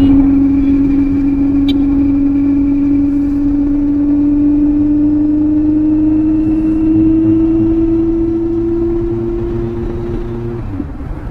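A Kawasaki Z900 motorcycle idles close by with a loud, steady exhaust drone. The pitch rises slightly and then cuts out near the end.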